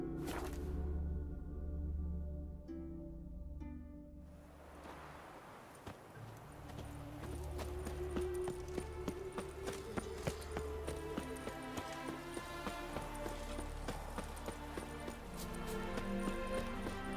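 Horse hooves in The Witcher 3 clatter in a fast, steady galloping rhythm after a brief quiet start, with a low background hum throughout.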